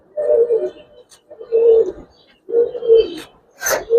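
Giribaz and coloring pigeons coo in three or four low, throaty phrases at close range, separated by short pauses, with a brief higher flutter or rustle near the end.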